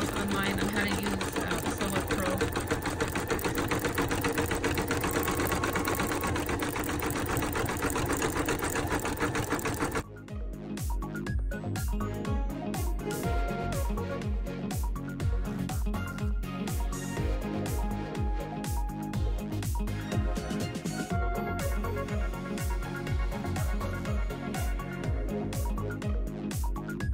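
A Brother Innovis 2800d embroidery machine stitches a llama design with a fast, continuous mechanical whir and needle chatter that runs the whole time, its tone changing partway through, while a voice talks over it.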